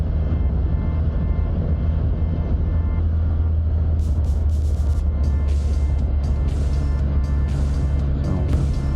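A Can-Am Spyder three-wheeled motorcycle cruising through Sea Isle City, New Jersey, with a steady close engine drone and low wind rumble that continue throughout and no one talking.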